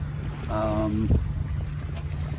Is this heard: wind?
yes